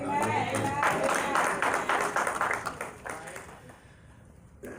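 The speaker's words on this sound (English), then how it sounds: "So let's give them a round of applause" A church congregation applauds its graduates in a swell of clapping that peaks early, then thins and fades over a few seconds, with voices mixed in.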